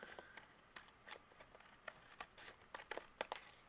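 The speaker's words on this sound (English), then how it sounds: "I'm going to trim that off with my scissors" Scissors trimming the overhanging edge of a stamped paper greeting card: a series of small crisp snips and rustles, close but faint, irregular and quickening toward the end, with no talk.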